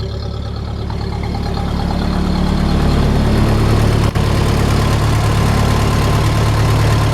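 A 1931 Ford Model A, a family car, idles steadily nearby, its low engine rumble loud and continuous with no talk over it.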